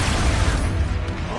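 An Expulso spell explodes in Hogwarts Legacy: a single loud, close, booming blast of noise that fills the whole moment without fading.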